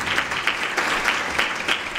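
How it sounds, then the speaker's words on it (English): Loud, close applause from an audience at a women's dialogue event in South Africa, with uneven bursts of clapping. "Can I request that we give a round of applause?"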